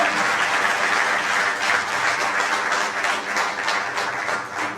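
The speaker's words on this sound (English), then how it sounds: "Please, a round of applause." An audience gives a sustained round of applause welcoming the executive secretary of the Agricultural Research Council on a working visit. The even, continuous clapping holds at moderate loudness for several seconds.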